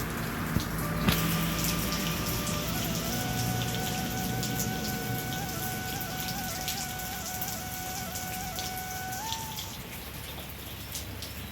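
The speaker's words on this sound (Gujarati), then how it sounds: "એટલો વરસાદ આવે" Heavy rain pours down in a dense, steady hiss, drumming on surfaces throughout, with a faint sustained tone running through the background.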